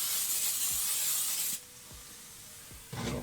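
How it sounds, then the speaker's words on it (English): Cooking spray hisses from a can onto food in a pan, one long close burst, a pause with faint clicks, then a second burst starting at the end. "I think they need a little more cooking spray."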